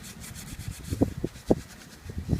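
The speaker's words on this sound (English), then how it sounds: "I'm going to clean up our little bit of excess with our degreaser wipe here" A degreaser wipe rubs excess gear oil off the rear shaft drive of a 1988 Honda VF750c Super Magna motorcycle, soft close scrubbing strokes with a few firmer thuds, quiet and without speech.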